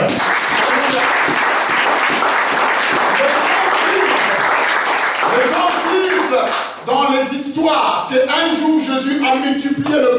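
A church congregation breaks into loud, sustained applause and clapping for the Lord, with cheering voices rising over it and a preacher's voice returning near the end.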